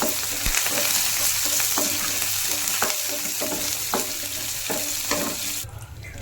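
Loud, steady sizzling of curry leaves and dried red chillies frying in hot tempering oil, with scattered scraping taps of stirring, quieting abruptly at the very end.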